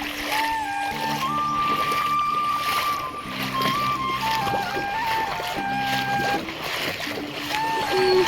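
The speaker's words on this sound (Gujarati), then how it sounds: "હવે હું અહીંયાથી પાણીમાં હાલીને જાઉં છું પાણી બહુ જાજું નથી" Feet wading through shallow rain floodwater in Dwarka district, producing steady, continuous splashing and sloshing close by, with no talking.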